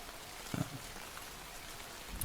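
Rain falls as a steady, soft hiss of storm ambience, faint and even throughout, broken by a couple of brief louder patters.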